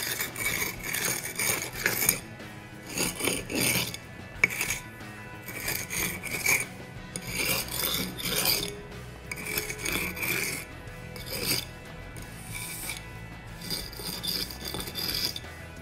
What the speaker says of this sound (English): With the bed joints, you use a different side of this tool, on the elbow side of it, and you rub that into the joint.